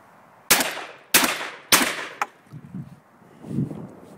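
Weatherby SA-08 semi-automatic shotgun firing 7.5 shot trap reloads outdoors, three loud sharp blasts in quick succession followed by a short metallic click and softer handling clatter.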